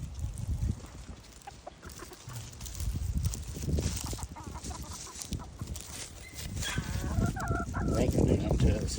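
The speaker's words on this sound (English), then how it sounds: "Get it, chickens. It's a standoff. A gang of chickens." A group of backyard chickens clucks and squawks in a tense standoff with a flat, copperhead-like snake near a pole barn, with busy overlapping calls, rustling and steady outdoor noise, moderately close.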